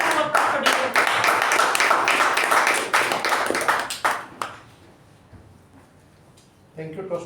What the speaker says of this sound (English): Please give a huge round of applause for DTM